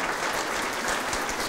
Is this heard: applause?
yes